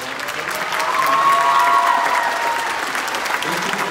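An audience at a 9th grade concert band Christmas concert applauds, a steady wash of many hands clapping that swells and holds, with faint cheering mixed in.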